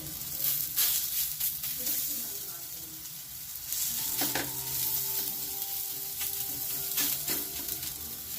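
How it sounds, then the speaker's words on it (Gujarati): Tikki of millet flour and mixed greens sizzles steadily in oil on a hot iron griddle, a continuous close frying hiss with occasional soft scraping or stirring touches throughout. "તેને આપણે શેકવાની છે, લોઢીને એકદમ થવા દેવાની છે। તેને તો આપણે પાછું થોડું એવું તેલ લગાવવાનું છે।"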